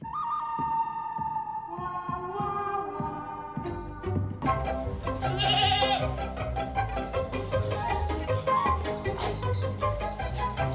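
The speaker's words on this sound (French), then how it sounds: "je suis toujours avec mes petites chèvres" Small farm goats bleating in a pen, with repeated wavering cries layered over a busy mix of other noise; the sound grows denser and louder partway through, with several animals calling at once and no clear talk.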